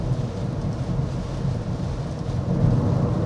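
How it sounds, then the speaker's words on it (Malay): Light rain heard from inside a Proton S70 car with a sunroof, a steady muffled patter and low rumble on the roof that holds even throughout, without speech. "Satu lagi yang orang selalu tanya ni, macam mana bunyi bila hujan dalam S70 kan."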